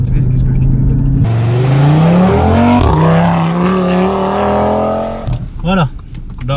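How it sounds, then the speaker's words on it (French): An Audi RS3 8V engine runs with its exhaust valve closed, rising in a loud sustained rev that holds, then drops back to a lower burbling idle; a voice is heard over it. "là on est dans les RS3. Ligne à clapet fermée pour commencer"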